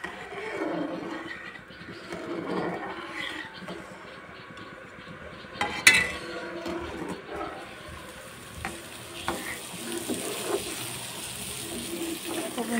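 Sago pearls stirred steadily with a metal spatula in a pan on the stove, soft scraping and bubbling with a sharp clank near the middle, running continuously under faint background noise.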